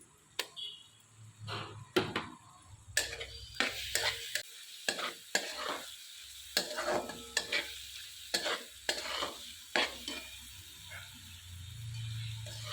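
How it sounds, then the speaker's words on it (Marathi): Ginger garlic paste being sautéed in a pan, a quiet sizzle broken by repeated sharp scraping strokes of a spatula stirring at an uneven rhythm. "छान परतून घ्यायचं आहे आलं लसूण पेस्ट घातल्यानंतरही"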